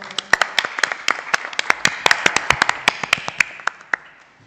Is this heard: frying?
no